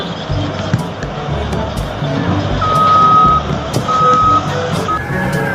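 Intermittent electronic reversing beeps from a toy sand truck, a thin steady tone repeating in short bursts over busy background rumble and handling noise.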